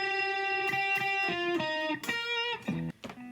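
Electric guitar plays a sliding riff, clear sustained notes stepping down with slides between them, ending in a few shorter plucked notes, solo and close.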